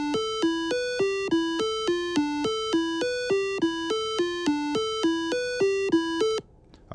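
A programmed Circuit Playground board plays a rapid, evenly spaced electronic melody of bright, tonal beeps, about twenty-five notes in quick succession, loud and clear with no one talking, then cutting off abruptly.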